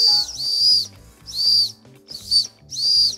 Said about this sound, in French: Oh, le sifflet! Ça va siffler